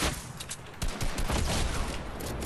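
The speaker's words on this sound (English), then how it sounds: "I'm going to shoot my RPG." An RPG rocket launcher fires in Fortnite, a harsh burst of noisy blast and rumbling explosion that fills the mix loudly, with a second surge rolling on as continuous battle noise and no speech.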